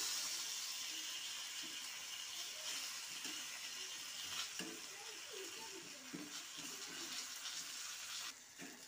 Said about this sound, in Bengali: চিনি দিয়ে আবার এইভাবে নাড়িয়ে দেবো